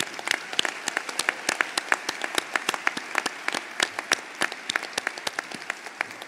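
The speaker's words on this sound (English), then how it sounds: "Let's give them a round of applause" Applause at a PharmD graduation ceremony honoring preceptors of the year: a modest crowd claps steadily with crisp, distinct individual claps, fairly near and sustained throughout with no talking.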